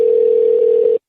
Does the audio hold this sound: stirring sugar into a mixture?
no